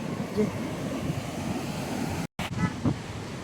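Ocean surf rolls onto a beach at Mullaitivu after a storm, a steady wash of waves mixed with wind buffeting the microphone, with a brief dropout midway and faint voices underneath.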